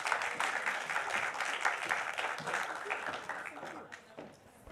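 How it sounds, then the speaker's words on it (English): Applause rises from a festival audience welcoming a speaker at a leadership session, moderately quiet and fairly even before thinning out toward the end, with some murmured voices underneath. "Round of applause,"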